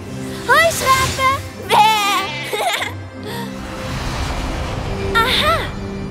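Cartoon sheep bleat several times in quick, wavering calls, loud and close, mixed with animated background music and effects.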